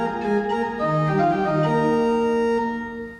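A pipe organ plays a passage from Bach's third fugue in a university setting, sustained overlapping notes holding steady, full and resonant, with no voices.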